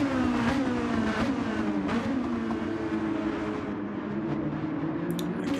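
A race car circles the Catalunya circuit during a Red Bull Juniors round, its engine a steady loud drone with a slowly wavering pitch that carries through the whole stretch and never drops out.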